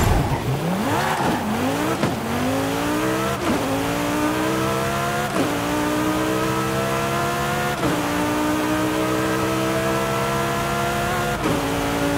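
A 1994 Ferrari F355 Berlinetta engine in Forza Horizon 5 revs hard and loud, climbing through several gear changes in a steady rising whine with short dips at each shift.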